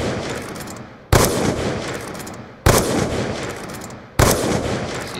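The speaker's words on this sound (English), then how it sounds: "I'm gonna try to shoot this guy." Three loud, evenly spaced sniper shots from a first-person shooter, each a sharp crack followed by a long decaying echo, about a second and a half apart.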